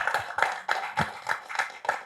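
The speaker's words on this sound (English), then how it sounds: "Can you please give round applause to?" An audience applauds a guest named Blair, about eight quick distinct claps in steady rhythm, faint and fairly close.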